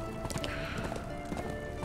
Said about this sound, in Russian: Вызываем лошадку.